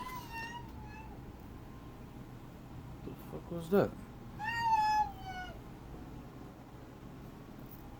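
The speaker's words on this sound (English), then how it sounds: "My cat's in heat." A cat in heat gives drawn-out, wavering meows in a kitchen, a few calls spread over several seconds, one longer yowl near the middle. A person speaks briefly just before it.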